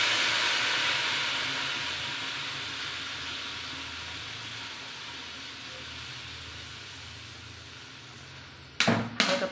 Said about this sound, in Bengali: এরপরে জল ঢেলে দেবো